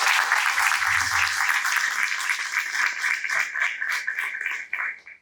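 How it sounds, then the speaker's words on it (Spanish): An audience at a disability and rights conference panel claps for the cameraman, a steady, moderately loud round of applause that holds for several seconds before quickly fading out, with a brief murmur of voices at the start. "Le pido un aplauso para él."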